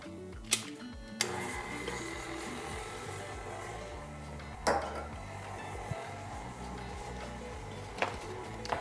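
Stand or hand mixer beating two sticks of butter with sugar for red velvet cake layers, a steady whirring churn broken by a few sharp clinks of dishes and utensils.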